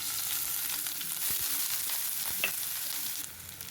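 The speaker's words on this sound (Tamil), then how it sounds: "ஆனியன் ஃப்ரை ஆகுது" Onions sizzling in hot oil in a pan for kothu idiyappam, a steady close hiss with a few light spatula scrapes and taps, easing slightly toward the end.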